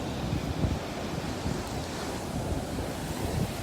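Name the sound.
ocean waves on a beach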